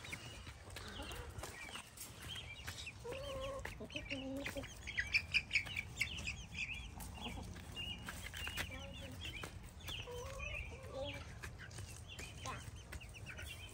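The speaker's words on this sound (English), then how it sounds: "It's great to see the little chicks already digging around." Baby chicks and hens in a backyard chicken coop give repeated peeps and soft clucks at moderate distance, with a few louder calls in the middle and people talking at times over low outdoor rumble.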